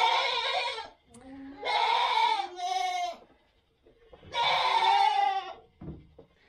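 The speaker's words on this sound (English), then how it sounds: "Goats are super squeaky this morning." Goats on a farm bleat in several loud, squeaky, drawn-out calls close by, with short pauses between bursts and no talking.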